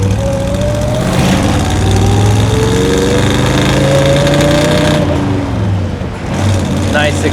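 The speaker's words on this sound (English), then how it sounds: "Nice exhaust note, great acceleration." A 1957 Chevrolet Bel Air with dual carbs drives along the coast, its exhaust a loud, close drone that rises and falls with acceleration, while someone talks over it.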